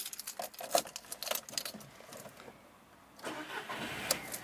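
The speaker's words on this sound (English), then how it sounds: "And just getting the car started." A blue Volkswagen Fox Urban with a petrol engine and manual gearbox starts up close by, with a clicking and cranking burst giving way to a quieter stretch and then a steady idle, with no talk.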